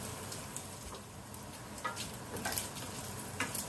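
Onions fry in leftover bacon grease with a soft, quiet sizzle and scattered light crackles and pops.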